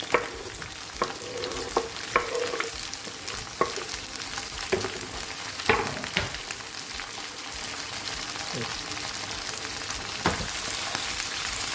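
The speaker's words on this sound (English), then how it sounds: "stir everything well to combine." A sausage stew with cinnamon stick, celery and tomatoes sizzles gently while a spoon stirs it, scraping the pot in sharp, scattered clacks over a steady frying hiss, close and alone with no voices.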